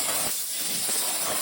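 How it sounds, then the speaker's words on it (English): An air compressor nozzle sprays a steady hiss of air, blowing leftover water droplets off a freshly washed motorcycle wheel, with a brief dip partway through before the blast resumes, loud and close with no talking. "I like to get the air compressor out and spray all the droplets off so that I don't have water marks."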